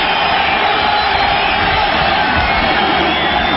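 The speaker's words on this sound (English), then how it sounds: "The crowd is roaring now." A college football stadium crowd roars in a dense, loud, unbroken wall of cheering and shouting, with no letup across the whole stretch.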